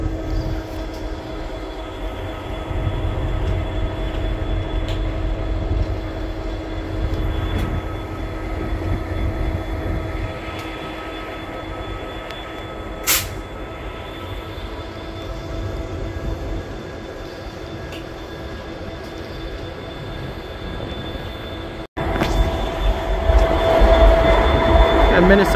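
Diesel switcher locomotive heard from inside its cab, a steady low engine drone with rail rumble and a faint whine, a brief sharp burst midway and louder running near the end.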